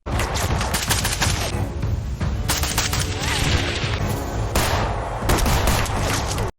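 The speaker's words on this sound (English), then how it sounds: "Mirko takes cover away from Zoe as bullets fly inches away from him" Rapid, continuous gunfire in a film fight scene, dense bursts of shots filling the whole stretch with little pause, loud and close.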